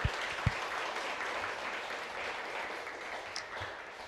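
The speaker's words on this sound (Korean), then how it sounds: "오늘 참여해주신 여기 내빈 여러분들과 패널 분들께 박수 한번 부탁드리겠습니다" Audience applause at a panel discussion of a Korean software policy forum: steady, moderately loud clapping from a seated crowd across the whole span, with a few sharper claps near the start.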